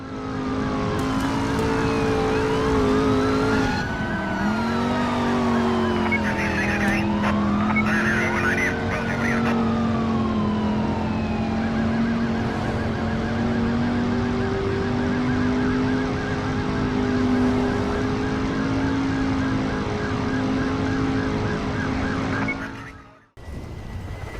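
A police car chase in the video game Driver San Francisco, with loud wailing sirens rising and falling over constant engine roar and tire squeal, continuous and close for most of the run before cutting out near the end.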